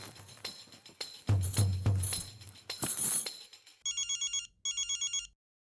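A telephone rings in a home in the Hindi family sitcom Taarak Mehta Ka Ooltah Chashmah, giving two short bursts of electronic trilling after a stretch of clattering household noise and background sound.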